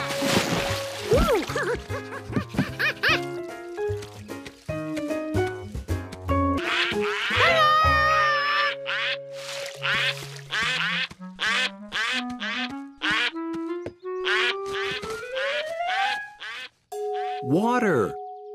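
Cartoon ducks quack in a children's animated show about a backyard pool, a run of bright, nasal, toy-like quacks and squeaky calls with rising musical tones mixed in, busy and close throughout.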